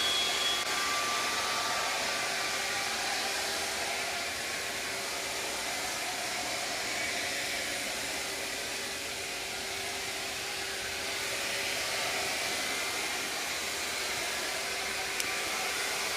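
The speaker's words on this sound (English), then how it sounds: "he's been helixing these holes, which means you set that final depth and origin spindle helically cuts down in a spiral to its final dimension" A handheld Shaper Origin CNC spindle helically cuts holes, spiralling down to final depth, giving a loud, continuous high-pitched whirring roar that holds steady throughout without pause.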